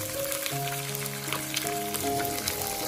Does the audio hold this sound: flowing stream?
no